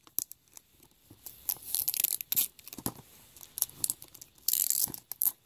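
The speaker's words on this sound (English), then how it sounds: "I'm trying to open the sticker off." A sticker seal is peeled off a Christmas gift in several short tearing, crinkling bursts, close and fairly quiet, with brief pauses between the pulls.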